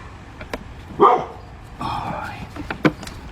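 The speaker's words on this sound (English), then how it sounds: "dog going crazy" A dog barks excitedly in a few short, loud bursts nearby, heard during work on a 2005 Cadillac CTS with a 3.6 engine, with people talking around the barks.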